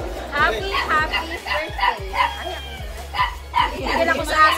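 A dog barks and yips repeatedly in quick bursts close by, mixed with people talking.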